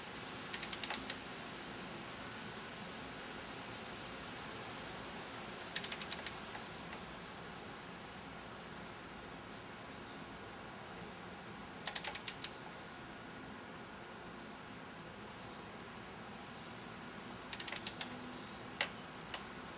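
A torque wrench ratchets on a valve cover bolt of a 2000 Mitsubishi Galant SOHC 4G64 engine, short bursts of rapid clicking spaced several seconds apart over a quiet background.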